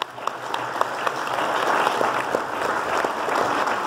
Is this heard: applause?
yes